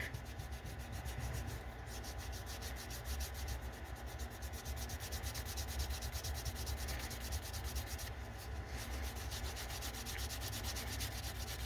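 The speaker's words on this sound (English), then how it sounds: "I want to move over it fairly fast. The point is to build up friction and heat and kind of melt that wax into the fibers." Fast, steady rubbing on a waxed leather edge, building friction and heat to melt the wax into the fibers; a continuous close scrubbing sound with a quick even rhythm, alone throughout.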